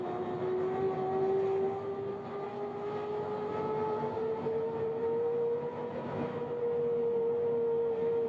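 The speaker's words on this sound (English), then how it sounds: "Wait for spool up and idle." An F-15 jet engine in Flight Simulator 2020 hums steadily, with a tonal whine that rises slowly in pitch over a broad roar as it spools up, sustained and even throughout with no talking.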